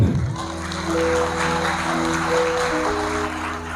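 Church congregation applauding during a worship service, a steady wash of clapping hands with a sustained music tone underneath, moderately loud throughout.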